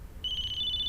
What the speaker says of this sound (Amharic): ስልክ ሲጮህ ሰማው መሰለኝ